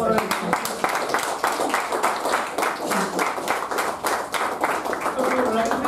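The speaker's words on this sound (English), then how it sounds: "So, very big round of applause for him" A Toastmasters club audience gives a guest speaker a lively round of applause; many distinct claps patter steadily and fairly close, with some voices mixed into the clapping.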